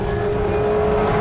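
Steve Pickering's rebuilt 910 race car laps the track during a long endurance race, its engine holding a steady, close droning tone with a sustained pitch throughout the brief moment.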